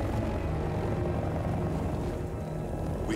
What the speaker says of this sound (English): Russian choppers, man, they shouldn't be here.